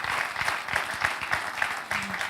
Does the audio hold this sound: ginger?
no